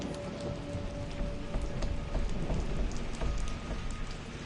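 Steady rain and low thunder rumble on a stormy night in the Tomb Raider VR game, set in a spooky cellar. Dense, even patter with no voices.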